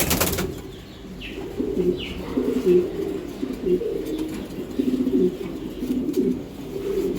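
Racing pigeons coo repeatedly in a loft, giving low, throaty rolling calls in irregular bursts close by, with a brief flutter of wings near the start.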